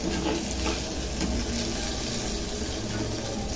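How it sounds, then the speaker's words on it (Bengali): Spices sizzle steadily in a pan with eggplant pieces during vegetarian cooking: chili, panch phoron five-spice seeds and turmeric frying in hot oil. A continuous, fairly close hiss runs unbroken through the whole stretch. "এই দেখুন ফোড়নগুলো দিয়ে দিলাম লঙ্কা পাঁচ ফোড়ন বেগুনটা ভাজা ভাজা হয়ে গেছে"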